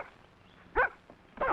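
A dog on a Western ranch gives two short, sharp barks spaced about half a second apart, fairly close, over quiet background.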